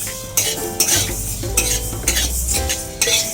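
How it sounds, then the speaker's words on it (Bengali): Whole spices with fenugreek frying in a pan for a jujube and tomato chutney: a bright, loud sizzle broken by repeated metallic scrapes and clinks of a spoon stirring against the pan, coming roughly every half second. "প্রায় 30 থেকে 40 সেকেন্ড আমি গোটা মশলাগুলোকে একটু ভেজে নেব।"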